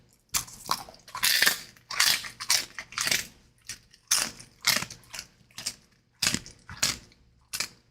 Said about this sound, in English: Zoe Crunchy Poof time